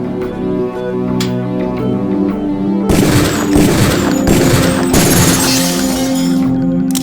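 Gunfire in the Deus Ex video game training mission: a loud burst of rapid, sharp shots follows a quieter stretch of tonal background, then more shots crack out close and harsh before fading.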